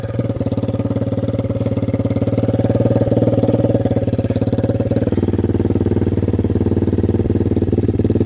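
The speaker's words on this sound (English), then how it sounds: "So this is with the KP Moto muffler on, right? Completely straight pipe." A Lifan KP Mini 300 4-valve motorcycle engine idles through a straight-pipe KP Moto muffler, producing a loud, close, rapid pulsing thump that stays steady, with a slight drop in pitch partway through.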